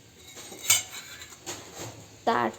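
A steel plate settles onto a kadhai of cabbage and chana dal bhaji with sharp metallic clanks, three distinct hits spaced across a few seconds in a quiet kitchen.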